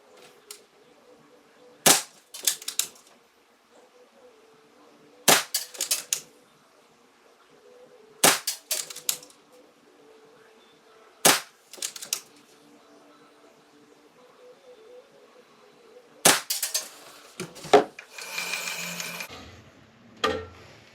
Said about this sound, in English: I'm using R10 match for this test, and we're going to do 5 shots to see how it groups.